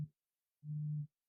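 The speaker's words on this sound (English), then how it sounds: "That was my phone ringing." A mobile phone set to vibrate buzzes nearby, two short low droning pulses separated by a brief silence.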